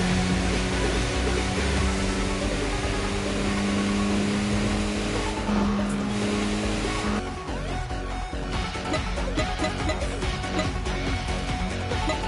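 A car drifts in Tokyo Xtreme Racer, its engine holding a sustained high-revving drone before shifting pitch into a rougher, noisier slide that carries on to the end.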